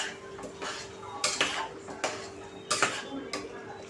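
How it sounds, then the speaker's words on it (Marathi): Kaleji (liver) masala being fried and stirred in a pan, with a spatula scraping and clinking against the metal in irregular bursts over a steady background hum, close and moderately loud. "आता आपण छान ह्याला असं मस्तपैकी फ्राय करून घ्यायचं आहे"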